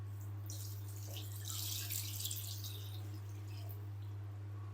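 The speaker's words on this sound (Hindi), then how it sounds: "साथ ही हमने ऐड करना है इसमें पानी।" Water pours into a bowl of raw chicken with vinegar and salt, a faint splashing trickle that swells briefly then fades, over a steady low electrical hum, with no talking.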